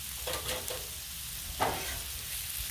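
Smoked sausage sizzles on a Blackstone griddle, a steady frying hiss broken by a few soft scraping and stirring touches, close and moderately loud with no talking.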